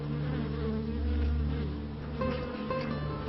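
Honey bees swarm around open hive frames in the Carpathian countryside, a steady, close, dense buzzing drone that holds for a few seconds with no voices over it.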